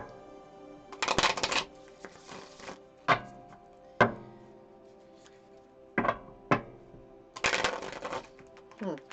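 A large tarot card deck being shuffled up close: two riffling bursts bookend a series of sharp taps and knocks as the deck is handled and squared.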